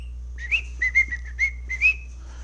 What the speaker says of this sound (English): The bird. He whistle.